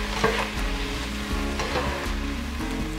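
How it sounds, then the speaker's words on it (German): Tomato paste and vegetables sizzle and roast in a hot pan for a beef roast in red wine sauce, a steady close frying hiss with light stirring scrapes and no talk. "Dann gebe ich hier Tomatenmark rein, gut gehäuften Esslöffel. Tomatenmark röste ich kurz mit an."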